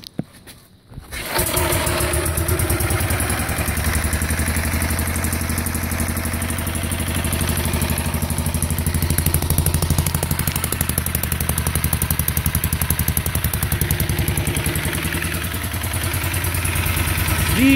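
An Andover V32 air-cooled auxiliary power unit engine from a B-29 bomber runs steadily after a brief start, its magneto-fired exhaust chugging loud and close with a rapid mechanical clatter and no pauses.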